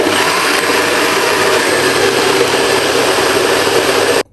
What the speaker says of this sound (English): Let's blend up this and close down the show.